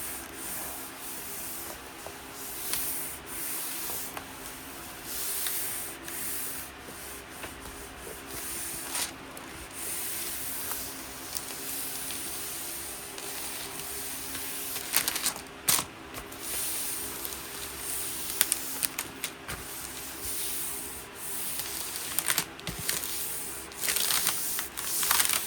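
A printed image being pulled off a big-head graduation fan: a long, quiet stretch of rubbing and scraping, with irregular louder rasps and brief crackles coming closer together toward the end.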